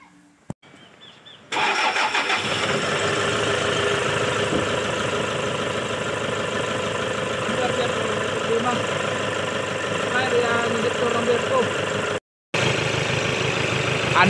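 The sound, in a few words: Toyota Hilux 1KD diesel engine starting and idling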